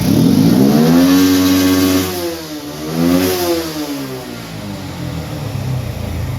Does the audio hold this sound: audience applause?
no